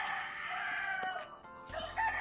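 A rooster crows nearby in Zamboanga, Philippines, a drawn-out call over faint background noise, with a short sharp click partway through.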